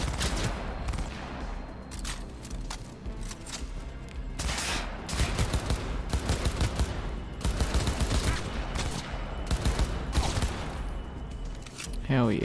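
Rapid bursts of gunfire ring out in Cyberpunk 2077 combat, loud and close with repeated volleys and sharp shots, clustered and intensifying toward the middle, while someone talks over parts of it.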